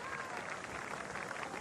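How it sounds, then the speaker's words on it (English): Generous applause from a cricket crowd at Hagley Oval as a Test side walks off the field, a steady dense patter of many hands clapping at a distance with no gaps. "Neil Wagner is going to lead the team off to generous applause here at Hagley Oval"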